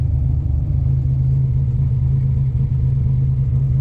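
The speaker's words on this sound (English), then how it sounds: "I like where I got this thing idling nice and clean." A car engine idles steadily after a new fuel injector install, giving a loud, even low rumble that holds stable throughout with no revving and no voices.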